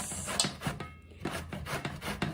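Bottle gourd rubbed against a grater, a series of short, close rasping strokes in an irregular rhythm, heard alone and fairly quiet.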